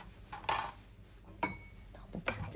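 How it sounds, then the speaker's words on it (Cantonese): An inner cooking pot set back down into an electric rice cooker during a chorizo paella recipe, giving a few light metallic clinks and knocks spread over a couple of seconds in a quiet kitchen. "將個飯煲擺翻落去電飯煲入邊"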